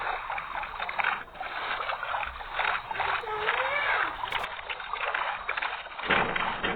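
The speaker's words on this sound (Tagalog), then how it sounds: "sakay na lang ulit tayo bangka" Rowing a boat in Minecraft, with steady watery paddling and sloshing running throughout under continuous talk.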